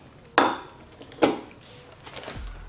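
A glass coffee maker jar from an ATMA digital coffee maker is set down, giving two sharp glassy clinks a second apart and a softer knock after, close and alone.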